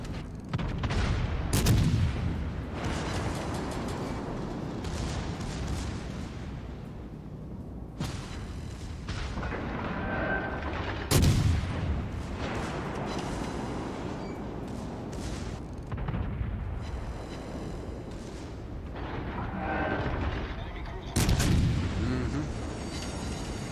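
Battleship main guns firing high-explosive shells in a naval video game, with three heavy booming salvos spaced several seconds apart amid continuous rumbling battle noise, explosions and clatter.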